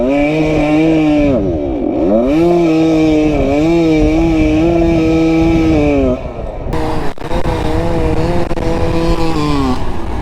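A Husqvarna SM 125 two-stroke supermoto does a burnout at full throttle, its engine screaming loud and close at sustained high revs, pitch wavering and dipping briefly before climbing again.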